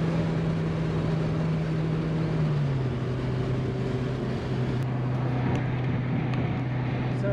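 Turbocharged Mazda Miata with a Torsen limited-slip differential accelerating hard up a highway on-ramp, a loud, continuous engine drone heard from inside the car, its pitch dipping at a gear change and then climbing steadily beneath rushing wind noise.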